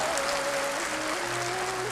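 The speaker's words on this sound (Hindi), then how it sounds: "मैं चाहूंगा आप अपने लिए एक बार जबरदस्त तालियां बजा रहे हैं।" An indoor hall audience applauds continuously, a dense steady wash of clapping at moderate level, with a faint tonal hum running underneath.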